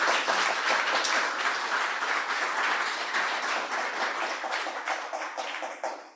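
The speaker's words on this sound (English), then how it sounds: "Can everybody give those a huge round of applause?" An evening audience gives the panelists of a restorative justice talk a big round of applause: loud, dense, steady clapping that tapers off slightly toward the end.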